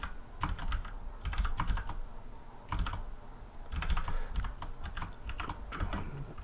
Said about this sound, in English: I'll explain after I get it all typed up